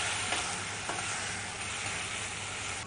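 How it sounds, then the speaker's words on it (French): Cooked pasta is tossed into a hot pan and mixed, with continuous sizzling and a few light scraping stir strokes, close and fairly loud, with no talking. "Et on rajoute les pâtes qu'on a fait cuire tout à l'heure. Faut bien mélanger."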